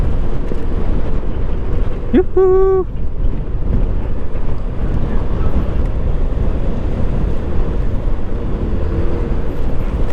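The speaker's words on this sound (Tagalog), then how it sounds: "Lakas ng hangin." Strong wind buffets the microphone in a constant low roar, with a brief shouted call from a person partway through.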